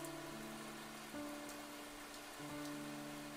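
Rain falls in a soft, steady patter, faint and continuous beneath sustained low droning tones.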